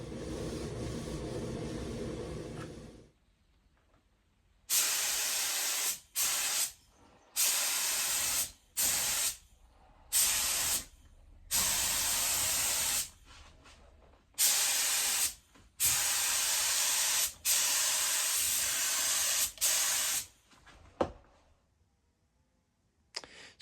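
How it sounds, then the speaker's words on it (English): Spray gun applying top coat paint to a classic car in a home garage: a series of loud hissing bursts of varying length, separated by brief silences, following an earlier steady noise. "Let's get spraying."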